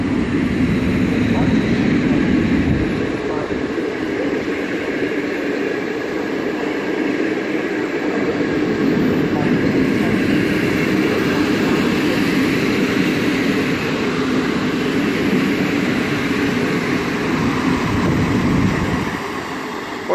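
TLK passenger train to Wrocław Główny hauled by EP07 electric locomotive 1015, passing with a continuous loud rumble and rolling wheel noise that holds steady for the whole stretch.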